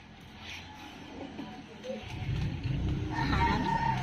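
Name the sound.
chicken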